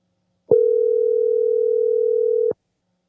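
A loud, steady telephone dial tone starts abruptly and holds for about two seconds, then stops cleanly, with silence on either side.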